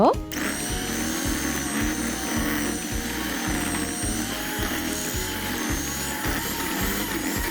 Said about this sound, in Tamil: பிறகு காஸ்டர் சுகரையும் பிரவுன் சுகரையும் ஒண்டா போட்டு அடிச்செடுங்க